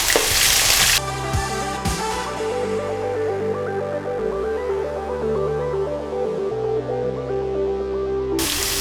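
Shallots and curry leaves sauté in hot oil with a strong, steady sizzle, a close spatula stirring and scraping at intervals beneath the constant hiss.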